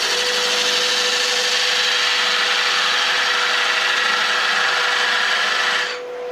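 A lathe tool cuts a glued segmented wooden box blank, giving a steady loud scraping hiss with a constant motor hum that stops abruptly near the end.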